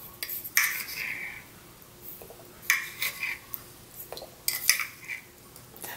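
A spoon clinks and scrapes against a bowl while sugar is stirred into about 700 ml of water for soaking dried radish, in bursts of light metallic tapping, close and fairly quiet, with no talk.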